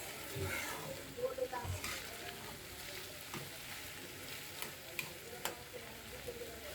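Beef tripe and potatoes fry in a pan with a soft, steady sizzle. Occasional light clicks and scrapes of stirring break through, all quiet and close.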